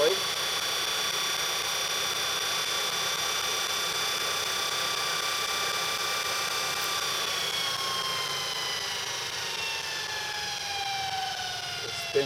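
A GE electric motor winds down, its steady whine sliding gradually lower in pitch over a broad whooshing hum, continuous and fairly close, with a faint click at the very end.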